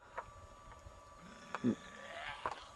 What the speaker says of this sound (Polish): niedźwiedź!